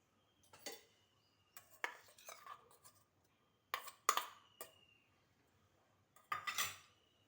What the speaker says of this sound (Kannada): ಒಂದು ತುಂಬ ಹಣ್ಣಾದ ಮ್ಯಾಂಗೋ ತಗೊಂಡಿದ್ದೇನೆ. ಇದನ್ನು ಹಾಕ್ಕೊಳ್ತೇನೆ. ಹೀಗೆ ಚಿಕ್ಕ ಚಿಕ್ಕ ಪೀಸ್ ಮಾಡ್ಕೊಳ್ಳಿ